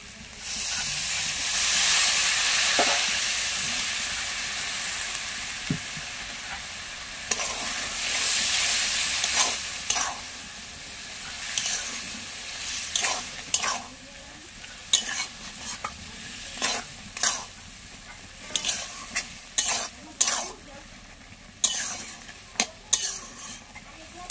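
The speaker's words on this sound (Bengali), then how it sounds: "মশলাটা কষা হয়ে গেছে, এবার অল্প করে জল দেব" Spice paste frying in a pan sizzles and hisses loudly when a little water goes in, then settles into crackling bubbling broken by repeated scraping stirs, with neem flowers cooking in a Bengali chorchori.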